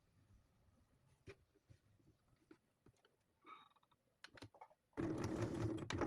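Safety stitching on a leather wallet with a sewing machine: quiet scattered clicks and handling noises first, then the machine suddenly runs loud and steady near the end.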